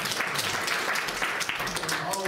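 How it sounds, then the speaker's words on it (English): An audience at a gathering gives a round of applause, with dense, steady clapping close by throughout. "Once again, I'd like to give these guys a round of applause."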